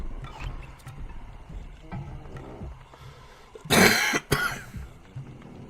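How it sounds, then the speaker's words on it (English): Two harsh, loud coughs in quick succession, preceded by quieter rustling and shuffling noises close by. "Good lord, this cough."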